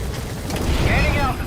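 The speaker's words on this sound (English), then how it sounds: "Let's go ahead and get on the chopper and leave the mission area." Helicopter in the video game Metal Gear Solid V, a dense, loud low rumble with churning rotor noise that holds steady through the brief moment.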